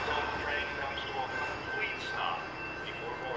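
A Metra commuter train passing through LaGrange, Illinois makes a steady, dense rumble and rush of noise that stays loud and even throughout.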